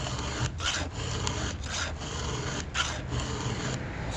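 A brand-new hand file rasps across a steel chainsaw chain in regular back-and-forth strokes, roughly one every half second, close up and fairly quiet, with no talking.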